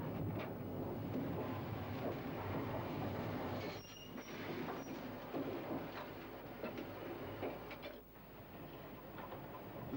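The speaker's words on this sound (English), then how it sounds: "we see the procedure at the top of the bank as the train accelerates away from our Ginty" A steam train pulls away up a steep bank from its banking engine, with a steady, loud rumble of rolling wagons and rail noise close by, brief squeals and clicks of the wheels, and no talking.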